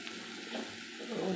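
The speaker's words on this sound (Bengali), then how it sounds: "পেঁয়াজটা একটু ভাজা ভাজা হয়ে যাবে" Onions frying in a pan give off a soft, continuous sizzle, faint and steady across a brief moment, with no talking over it.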